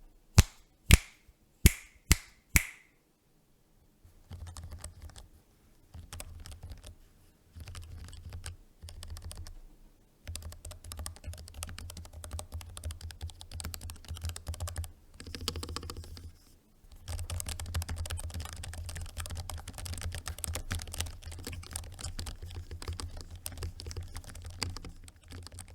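Typing on an ASUS ROG Falchion RX 60% gaming keyboard with pre-lubricated low-profile optical ROG RX switches. A few sharp snaps come first, then a long stretch of fast, soft, close keystrokes in irregular bursts, with no voices.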